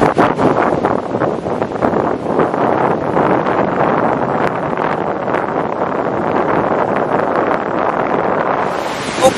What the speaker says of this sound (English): This is one of those days where that wind never stops. Never, never lets up. It just keeps blowing and blowing and blowing.